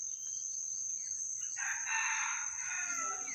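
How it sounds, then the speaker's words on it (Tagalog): A rooster crows once from a moderate distance, its call rising and holding over a faint background with a steady high-pitched tone, and no one talks. "Yan yung tilaok ng alpas"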